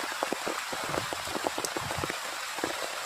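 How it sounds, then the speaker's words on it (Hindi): Steady heavy rain in Bihar pours down with a dense hiss, and scattered drops patter and splash on nearby surfaces. "इतना बारिश हो रहा है बिहार में"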